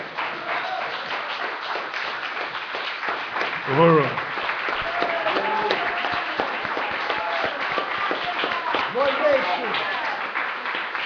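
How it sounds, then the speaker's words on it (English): Audience applause for a speaker at a political gathering fills most of the clip as dense, steady clapping, with a voice briefly calling out over it. "Please join me in giving a big round of applause"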